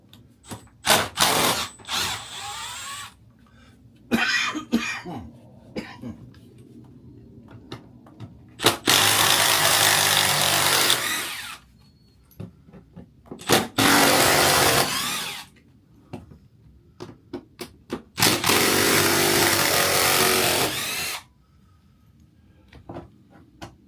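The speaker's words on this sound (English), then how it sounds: "little impact drill" A small impact drill whirs and hammers, driving T25 screws while removing an exterior door, in several bursts of two to three seconds each, close and loud, with short clicks and handling noise in between.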